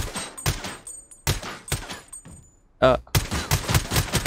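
Rapid bursts of dual Glock pistol fire in the shooter game Blood Strike, several loud clusters of shots with brief pauses between them and a short exclamation from a player midway.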